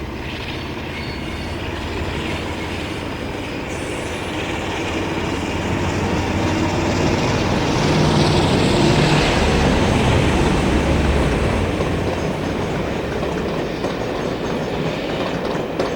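Former Porterbrook-liveried Class 47 diesel locomotive 47810 hauling a Liverpool to Paignton passenger train past, a broad rumbling roar with rattling wheels that swells to a peak midway and eases off.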